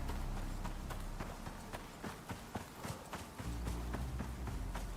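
Horse hooves clip-clop steadily in the survival game Icarus, a fast rhythmic run of hoofbeats over a dense, loud game soundscape with a deeper rumble near the end.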